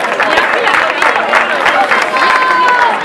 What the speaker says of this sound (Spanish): y el aplauso de todos